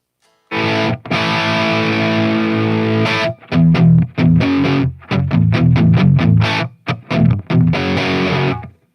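Loud overdriven electric guitar through a Marshall Plexi amp with no reverb rings out a held chord, then chops into short staccato chord stabs with tight gaps, crunchy and dry.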